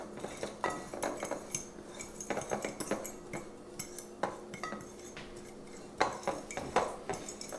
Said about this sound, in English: Combine the ingredients pretty well.